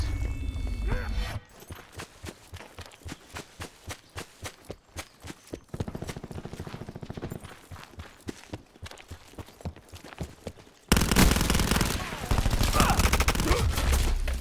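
Rapid gunfire in a Black Ops 4 free-for-all match: bursts of sharp, close shots in quick rhythmic strings, with a louder, denser stretch of fire near the end.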